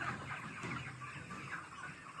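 A broiler chicken on a poultry farm clucking softly, a faint, low murmur of short clucks heard close by with no talking.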